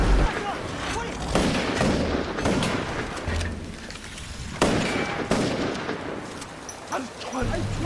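Gunfire aimed at the river monster in the Korean film The Host, with repeated sharp shots and bursts scattered through the scene, mixed with film dialogue and ambient noise, loud and close.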